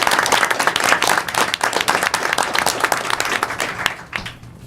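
An audience in a room applauds students during a health initiative roundtable. The clapping is full and steady, then thins out and fades over the final second.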